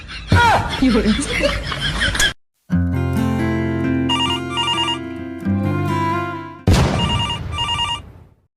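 A telephone ringtone plays a steady, repeating electronic melody for about four seconds in a Gujarati comedy skit, between bursts of chuckling and laughter before and after it.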